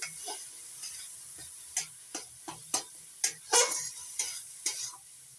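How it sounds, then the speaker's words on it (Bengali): Carrot paste being stirred in ghee in a pan for carrot rosh puli pitha, a soft sizzle under repeated scraping strokes of a spoon, close and fairly quiet, with no talking. "ঘির সঙ্গে পেস্ট করে নেওয়া গাজরটা একটু নাড়াচাড়া করে নিচ্ছি"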